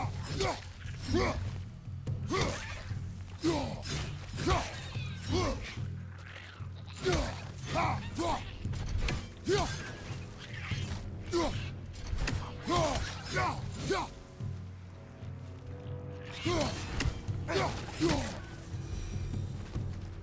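A mechanism is wrenched in God of War Ragnarök, making repeated creaking, clunking strains in bursts with thuds between, while voices talk over the noise.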